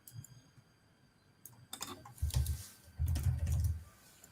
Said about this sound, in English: Some typing.